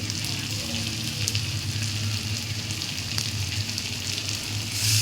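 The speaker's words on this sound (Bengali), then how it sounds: "এইগুলোকে একসাথে মিশিয়ে ভালো করে কষিয়ে নেব" Spices, potatoes and bhetki fish bones sautéing together in a pan for a chorchori, a steady close-up frying sizzle with faint stirring scrapes and a low hum underneath, running continuously with no talk.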